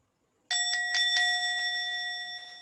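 A meditation bell during a zazen retreat rings once, a clear sustained metallic tone with bright overtones that shimmers and slowly fades, alone in a quiet room at moderate distance.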